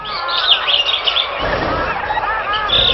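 A flock of long-necked, milk-white birds roosting in tall peepal, eucalyptus and banyan trees fills the air with dense, overlapping chirps and squawks, loud and continuous, with a low rumble joining partway through.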